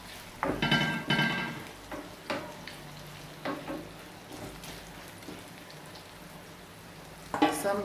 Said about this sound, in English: So I am just going to saute it.